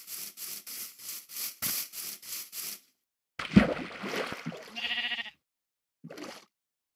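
Several sheep bleats in Minecraft come in a quick regular run, close and clear, followed by a few more game sounds and a last short bleat, with no talking over them.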